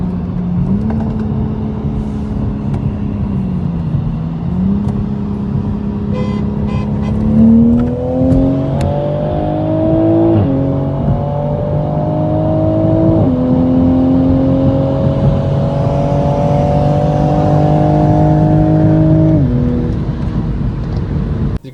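Volkswagen MK7 GTI accelerating hard during a race against a Supra: a close, steady engine note climbs in pitch and drops back at each gear change, pulling through several shifts with no talking.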